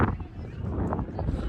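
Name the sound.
cold wind blowing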